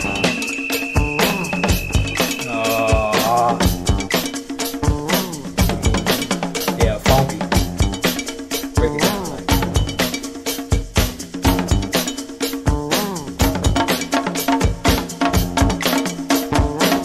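A rock song plays loud and dense, with a bright cowbell-like percussive hit repeating in steady rhythm through guitar and drums, no talk over it.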